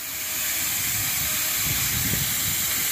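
Pressurised air hissing steadily out of a dump truck trailer during unloading, a continuous loud hiss that swells slightly after the first half second and holds without any talk.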